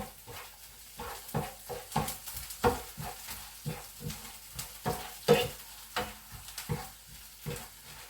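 Ginger and garlic stirred in a frying pan, a spoon scraping in steady repeated strokes over a soft sizzle, close and alone.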